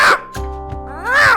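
A crow gives two loud, rasping caws, one at the start and one at the end, with a short quieter gap between them and no talking.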